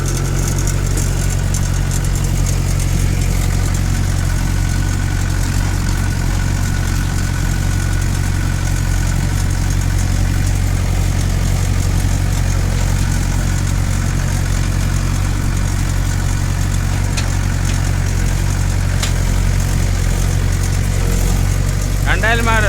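Steady idling drone of a 2000-model Mahindra 575 tractor engine, a low rumble with constant vibration running unbroken throughout, near and fairly loud.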